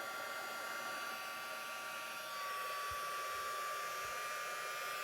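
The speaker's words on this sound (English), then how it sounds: "I'm going to bring in my heating tool, and I'm going to be very careful with this since I don't have my tweezers handy." A heat embossing tool blows hot air for card making, a steady, loud broadband whoosh that runs unbroken and alone for the whole stretch, with a few faint low bumps near the end.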